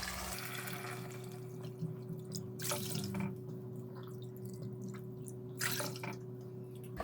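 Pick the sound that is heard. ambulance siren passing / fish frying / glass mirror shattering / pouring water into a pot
pouring water into a pot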